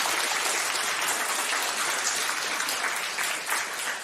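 Audience clapping at a live panel showcase event, a loud, dense, continuous burst of many hands that holds steady throughout.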